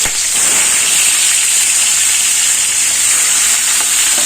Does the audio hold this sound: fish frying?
yes